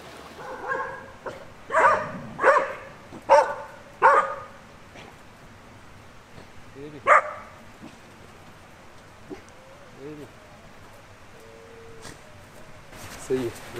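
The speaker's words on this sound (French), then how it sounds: "On s'est fait accueillir par les chiens ici." Village dogs bark sharply in a quick run of about five loud barks, then a single bark and fainter yips follow, with rain-like patter and people talking in the background.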